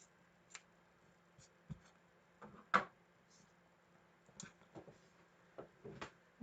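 Scissors cutting fabric while sewing, working around corners one at a time: scattered soft snips and small clicks, faint and irregular over a quiet room, with no talking.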